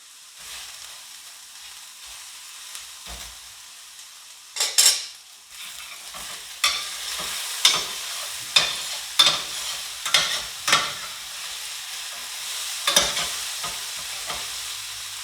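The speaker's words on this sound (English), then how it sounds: "saute the eggplant first because I don't want it to be raw with the rest of the ingredients" Eggplant sautés in a frying pan with a soft steady sizzle, punctuated by a string of sharp utensil scrapes and knocks against the pan as it is stirred.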